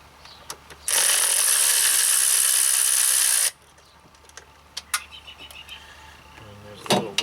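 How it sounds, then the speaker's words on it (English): A 1/4-inch ratchet with a T20 bit works loose the fresh air pipe screw on a BMW X5 N55 engine, producing one loud, steady, close burst of mechanical noise lasting a few seconds. Faint clinks and handling sounds follow. "we're going to take off this screw right here, which is holding the fresh air pipe"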